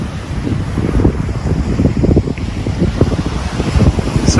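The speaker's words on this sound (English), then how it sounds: "I'm not sure what the wind's like, it's a bit windy." Wind gusts steadily at the seashore at Corton, UK, during sea fishing on rough seas, a loud, rumbling buffet across the microphone with waves washing underneath.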